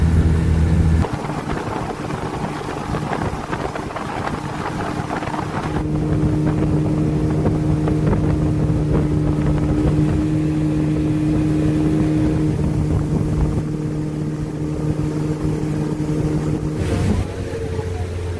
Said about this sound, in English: These are communities that can only be accessed by boat